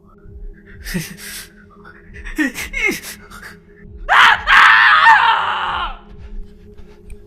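A man's wailing scream in a Hindi horror story, several short gasping cries building to a long, loud, strained shriek near the end, heard alone without speech.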